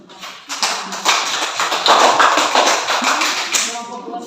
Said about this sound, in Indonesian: Tepuk tangan harus benar.